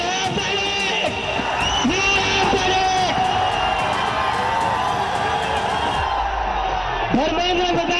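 A crowd of student activists celebrating after the Union education minister resigned, loud continuous cheering, whoops and shouts from many voices close by, with chanting and individual yells rising above the din.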